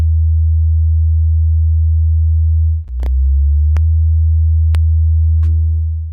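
A steady, loud, very low test tone of about 24 hertz drones from a speaker driving ferrofluid, briefly dipping near the middle, with a few sharp clicks and a short higher chirp laid over the hum.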